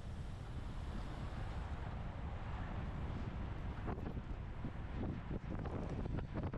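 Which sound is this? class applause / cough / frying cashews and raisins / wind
wind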